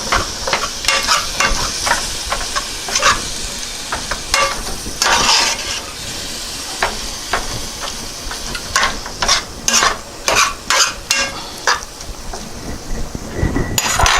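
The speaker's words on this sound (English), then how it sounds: "I'm going to mix that seasoning into the hamburger." Ground hamburger meat sizzles and fries in a pot while seasoning is stirred in, with steady scraping stirs and occasional clinks of a utensil against the pan for chili with beef and beans; no talking.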